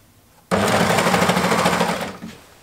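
A sewing machine starts abruptly and runs steadily for about a second and a half through five layers of fabric for a child's sweater, loud and close, with a rapid mechanical whir before slowing to a stop.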